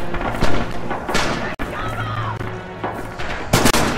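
Grenade blasts and gunfire in the World War II shooter Red Orchestra 2, with dull booms and thuds over a busy battlefield din and a voice talking in the background.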